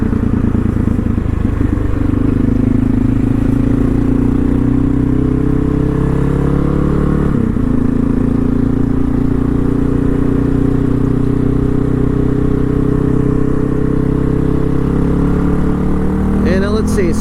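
A dirt bike motorcycle rides and accelerates, its engine droning loud and close with a rising, wavering pitch and steady wind rush throughout.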